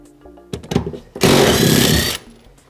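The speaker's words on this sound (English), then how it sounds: "I'm taking an 18 millimeter socket and my impact gun." An impact gun with an 18 mm socket rattles out a Jeep JK seat bolt in one loud, close burst of about a second, after a few clunks.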